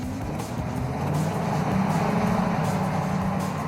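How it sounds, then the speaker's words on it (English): The Ecto-1 Cadillac's engine runs in a steady, close, full-bodied roar that swells slightly midway and holds throughout, with no voices over it. "It's got that beautiful Cadillac motor."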